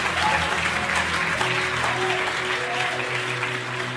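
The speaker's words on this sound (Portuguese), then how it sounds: "pode aplaudir mais forte." Church audience applauding loudly at a preacher's urging, a full, sustained roar of clapping with faint cheering and a low hum beneath, steady from start to finish.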